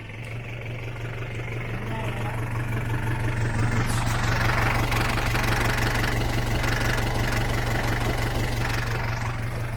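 A 4BE1 engine in an Isuzu Elf 4x2 mini dump truck idles steadily during an overheat test, a constant low rumble with light knocking that swells slightly midway, close and alone with no talk.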